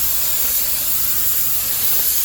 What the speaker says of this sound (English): spray the bottom